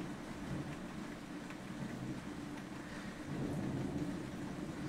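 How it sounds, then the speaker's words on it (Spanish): Low rumbling thunder rolls continuously through a stormy night, a steady broad roar with a slight swell near the end, no voices present. "Y esos malditos truenos."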